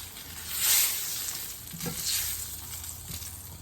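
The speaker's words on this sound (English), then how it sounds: "I'm going to put the sauce on this lo mein and dinner will be ready" Orange sauce poured over lo mein in a hot pan, a steady close sizzle and frying hiss with stirring scrapes swelling and easing as the noodles are tossed, no talking.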